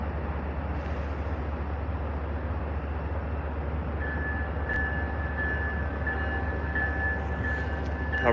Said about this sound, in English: This train's probably going out of service.